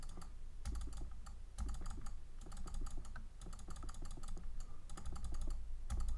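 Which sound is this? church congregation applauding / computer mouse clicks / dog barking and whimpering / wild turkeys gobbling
computer mouse clicks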